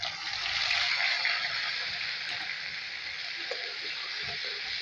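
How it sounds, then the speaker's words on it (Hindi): Onion frying in a pan for a home-cooked vegetable dish, a soft, steady sizzle with faint bubbling, close by and unbroken, with no voices. "हमारा प्याज भूनकर तैयार हो गया"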